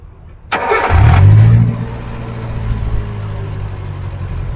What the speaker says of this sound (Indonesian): Nah, sekarang coba kita starter, kita dengerin suara langsamnya bagaimana.